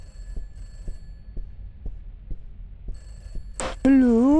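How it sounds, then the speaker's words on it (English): A telephone rings in the horror video game Peter's House, a short trilling burst near the end after a steady series of soft rhythmic thuds like footsteps, followed by a loud sustained tone. "The phone is ringing."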